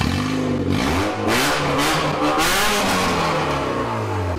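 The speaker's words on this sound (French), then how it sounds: "couper une partie du pot d'échappement. Comme ça, ça va faire un gros bruit." Car engine with part of its exhaust pipe cut off revving hard and loud, a raw rally-like roar rising and falling in pitch continuously through the whole stretch, close by with no talk.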